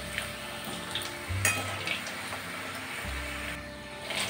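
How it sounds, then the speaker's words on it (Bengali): Potatoes for French fries frying in hot oil on a high flame, a steady close sizzle with brief louder surges, no voices. "পুরোপুরি হাই ফ্লেমে দিয়ে আলুগুলোকে ভেজে নিতে হবে।"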